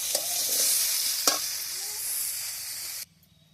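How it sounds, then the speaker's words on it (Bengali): Mixed vegetables sizzle and fry in a pan while being stirred, a steady close hiss with scraping strokes, ending abruptly after about three seconds. "দেখুন সব সবজি মোটামুটি একটু ভাজা ভাজা মতো হয়ে গেছে"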